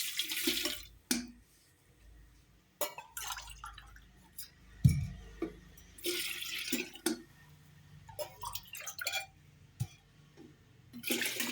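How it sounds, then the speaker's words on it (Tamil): Water is measured out and poured for three cups of masala tea, with irregular splashing, trickling and dripping bursts spread through the stretch and quiet gaps between pours. "அடுத்தது தண்ணி ஒரு 3 பேருக்கானதை அளந்து விடுவோம்."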